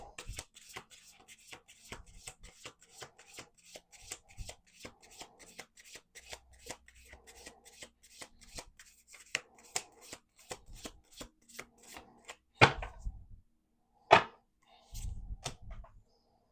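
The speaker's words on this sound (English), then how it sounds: "One last shuffle." Cards riffled and bridged repeatedly nearby, soft rapid flutters with brief pauses, ending in a few sharper snaps of the deck.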